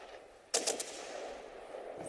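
Rear gun turrets of a warship fire in a World of Warships naval battle: a sharp, loud burst of two or three quick reports, then a fading rumble over steady game background noise.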